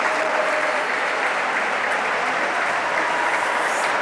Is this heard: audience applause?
yes